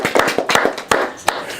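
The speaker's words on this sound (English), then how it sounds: "let's give his team a round of applause for going through the book with you" A short burst of scattered hand claps from a small classroom audience, a few distinct nearby claps in an uneven rhythm rather than a full roar.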